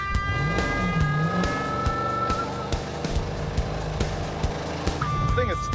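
The Super Camaro's V8 rumbling and pulling while driving, with engine tone rising and falling through acceleration, and voices talking over it inside the car.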